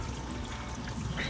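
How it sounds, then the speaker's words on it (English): Large canisters on a Bluonics 4-stage UV water purifier fill with cold water, a steady loud rushing pour with no breaks, heard close by. "you're gonna turn on your cold water supply, and you're gonna hear the canisters start to fill."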